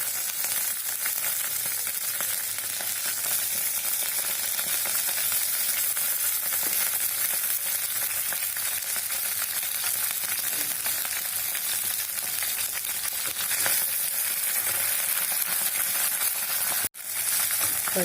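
Green chillies frying in hot oil, a dense, steady sizzle close by that holds without a break almost to the end, with no talk.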